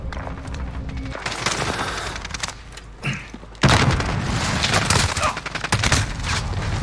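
Dense bursts of gunfire and booming explosions in Call of Duty: Modern Warfare, loud and near, firing from several directions with a brief lull before a heavy renewed barrage.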